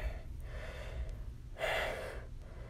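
A superhero character breathes heavily, soft rasping breaths with one louder gasping exhale near the end, alone and quiet.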